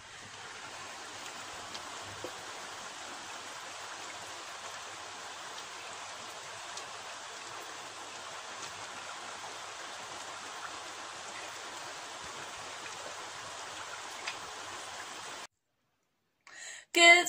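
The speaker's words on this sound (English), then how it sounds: "Can you hear the rain?" Steady rain hissing continuously at an even level for most of the clip, then a brief pause and a short rustling bump at the end.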